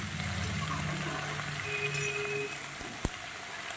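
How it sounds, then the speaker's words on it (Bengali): Washed, chopped vegetables sizzle steadily in a hot pan for a mixed vegetable curry with prawns, a soft continuous frying hiss with a brief clink near the end. "কেটে ধুয়ে রাখা সবজিগুলো সবজিগুলো এর সঙ্গে আমি সুন্দর করে ভেজে নেব"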